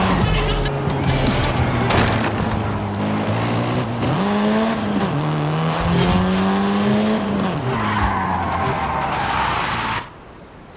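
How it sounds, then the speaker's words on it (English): A Volkswagen Golf R is driven hard, its engine droning loudly and rising and falling in pitch through gear changes as the tires squeal, with the roar continuing before cutting off abruptly near the end. "This version is the Volkswagen Golf R"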